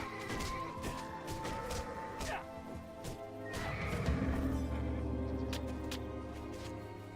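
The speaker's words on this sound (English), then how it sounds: "You saved my horse" A horse neighs loudly in the Titan Quest video game, a drawn-out whinny over clip-clopping hooves and game sound effects, followed by a low rumbling tone.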